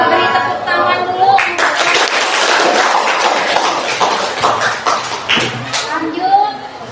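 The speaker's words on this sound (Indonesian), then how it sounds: "Beri tepuk tangan dulu" An audience at a group presentation gives a round of applause, many hands clapping densely and steadily for several seconds before thinning out, with a few voices murmuring underneath.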